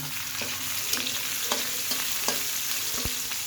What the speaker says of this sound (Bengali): এখন মাছটা নামিয়ে নিয়েছি ওই তেলেই আমি পেঁয়াজ রসুন আদাগুলো